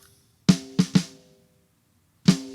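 Unequalized snare drum channel from a studio mix, five sharp dry hits: three quick strikes close together, a pause, then two more, loud and alone with a short ringing tail.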